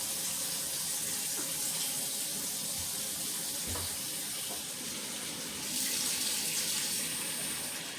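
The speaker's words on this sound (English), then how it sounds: "So I'm finna run me some dishwater." A kitchen tap runs steadily into a sink, filling it with dishwater; a constant close hiss of flowing water that swells slightly louder near the end.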